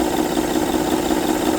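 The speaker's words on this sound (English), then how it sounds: "the belt is flopping up and down, so that's what's making that rattling noise" A 2008 Honda Pilot engine idling up close with a steady, continuous mechanical rattle from a loose, flopping timing belt, a dense even drone with no talk over it.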